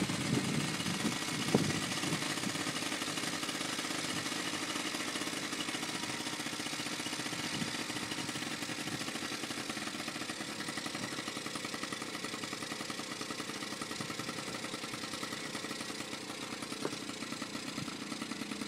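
A Yamaha QT50 moped on premix fuel idles steadily in the cold, running a little smoky, its small two-stroke engine putting out a constant buzzing drone throughout at moderate distance with no talk.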